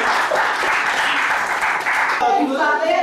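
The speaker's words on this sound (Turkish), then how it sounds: "Alkışlayalım." Steady applause from a group of students at a school report-card event in Midyat, Turkey, fills the clip, with a murmur of voices mixed in toward the end.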